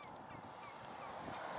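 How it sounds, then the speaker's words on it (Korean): Wild turkeys call along a roadside in the Utah canyon country near Bryce Canyon, a burst of honking, gobbling notes heard fairly close over faint background noise. "여기 야생 칠면조들입니다."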